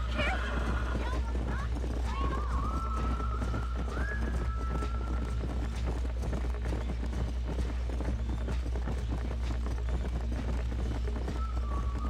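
A horse gallops in Red Dead Redemption, its hooves clip-clopping in a steady, even rhythm throughout, under a voice and a faint background score.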